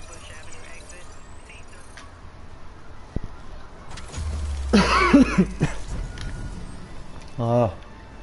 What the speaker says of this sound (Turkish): Yeter. Öksürüp duruyorum.